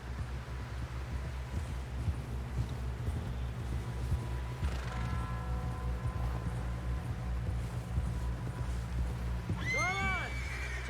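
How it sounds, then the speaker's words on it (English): Horse hooves clip-clopping through snow in Red Dead Redemption 2, a steady rhythmic plodding under a low ambient rumble, with a brief whinny near the end. "Someone help John down off this horse."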